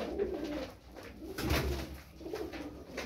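Soft, low pigeon coos repeat in a steady throaty rhythm, close by, with faint rustling in the background; tumbler pigeons.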